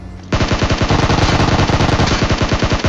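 A SCAR rifle in a shooter video game fires continuous fast automatic bursts, loud and close, as an evenly spaced stream of sharp shots that starts abruptly and keeps going.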